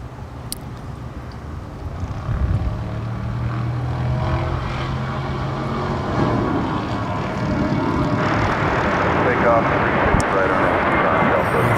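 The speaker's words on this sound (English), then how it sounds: "That is a festive-looking aircraft." An aircraft passing at Dallas–Fort Worth International Airport, its engine roar building and holding loud and broad throughout, with people talking under the noise.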